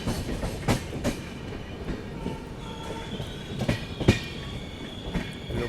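A passenger train rolls into Khurda Road junction with a steady rumble of wheels on track and sharp clacks over rail joints, heard from inside the train with no speech.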